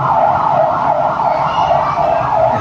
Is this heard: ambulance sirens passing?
yes